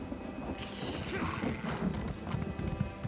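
In Elder Scrolls Online, an Imperial horse in the Cyrodiil region clip-clops in a steady rhythmic trot at moderate volume, over a soft ambient game background.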